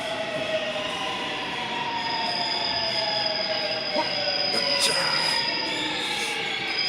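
An older Seoul subway train, set 812, rolls into Moran Station with a steady rumble and a high, sustained wheel squeal, brakes hissing faintly as it slows.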